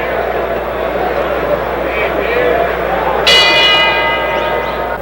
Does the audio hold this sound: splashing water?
no